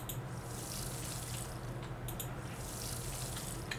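Crops being watered in the farming video game Pumpkin Days, a steady splashing water sound like a running tap, continuous and fairly loud throughout with faint soft clicks.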